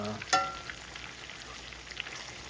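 Steak frying in melting butter in a cast iron skillet gives a low, steady sizzle, with one sharp clatter near the start and then an even crackle at moderate level, no voices.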